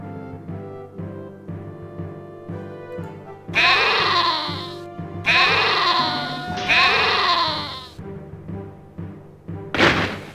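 Sheep bleating in the 1998 city-building video game Caesar III, three long wavering bleats in a row, loud and close over a steady background game music drone, with a final short cry at the end.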